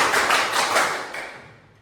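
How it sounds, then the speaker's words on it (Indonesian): A classroom group claps in a counted sequence as a concentration drill. Several sharp, fairly close claps come at a steady beat, then the sound tapers off near the end. "Oke semuanya, tepuk 1, tepuk 2, tepuk 3, tepuk 4,"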